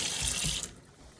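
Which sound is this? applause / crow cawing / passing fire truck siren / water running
water running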